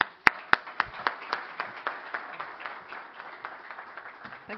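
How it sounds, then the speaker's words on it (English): A conference audience on Portugal's energy transition breaks into applause, a couple of sharp claps leading into a brief burst of scattered clapping that quickly thins out. "So please give a round of applause to Rosalia"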